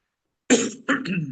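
Two close, sharp coughs in quick succession following silence, the second rougher and trailing off.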